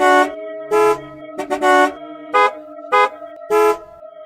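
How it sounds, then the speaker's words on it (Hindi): Six loud car horn blasts, some long and some short, honking in an uneven rhythm close by, with no talking. "अब रात को उस गाड़ी के हॉर्न के बजने की तेज आवाज आने लगती है।"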